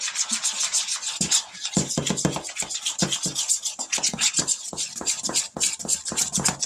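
Cinnamon roll icing being mixed in a bowl, giving rapid, rhythmic scraping and stirring strokes against the bowl, close and steady with no talk.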